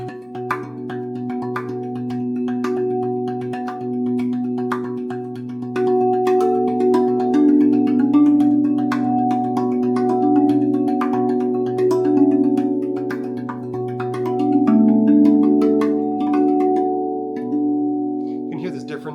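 Softer steel tongue drum strikes near the rim play a flowing sequence of ringing notes, each tone blending into a sustained metallic hum, unaccompanied by speech.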